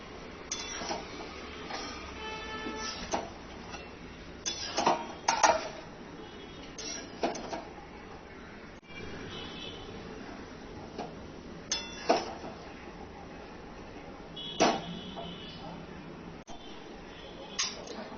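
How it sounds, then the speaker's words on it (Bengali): Pumpkin greens are stirred in a pot with repeated clinks and scrapes of a utensil over faint, quiet cooking. Some brief sounds are sharper than others. "ঢাকনাটা খুলে আমি শাকটা নাড়াচাড়া করে নেব"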